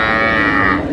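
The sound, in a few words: cow with calf mooing at a cattle market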